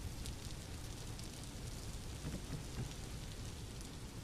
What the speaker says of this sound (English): Never been so happy to hear rain.